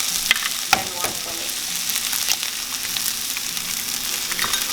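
Two eggs frying in a pan with salt, pepper and chili flakes, a bright continuous crackling sizzle heard close, with a couple of soft knocks near the start and no speech.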